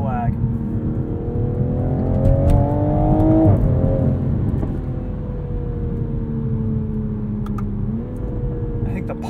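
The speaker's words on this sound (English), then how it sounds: "Pops and burbles are tuned really well too." 2021 Toyota Supra 3.0 Premium engine on a drive, revving with rising and falling pitch and scattered sharp pops and burbles over the steady road and engine noise.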